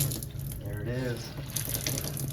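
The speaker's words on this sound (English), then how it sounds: "now we're gonna have some filtered water." Filtered water runs from an under-sink main faucet filtration system into a sink, a steady close hiss of flow with a brief tonal whine partway through.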